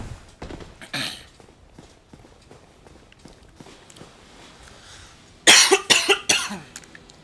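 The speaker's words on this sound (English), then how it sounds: "I need to stop coughing." A person coughs in a few scattered bursts, then breaks into a loud fit of several harsh coughs near the end, with faint thumps between.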